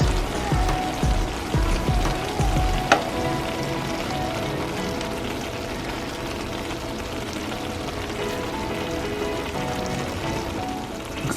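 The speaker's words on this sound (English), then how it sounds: "Let's continue to cook for 5 more minutes in low heat" Ackee and saltfish cooking in a pan on low heat, a steady soft bubbling sizzle throughout, with a few clattering knocks near the start and one sharp tap just before the three-second mark.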